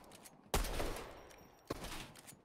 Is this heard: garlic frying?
no